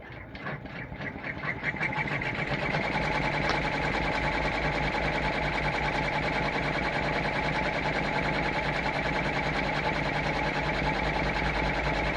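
Embroidery sewing machine stitching down a fabric applique on a Santa ornament, a steady rapid mechanical whir and needle clatter that ramps up over the first two seconds then runs continuously, close and alone.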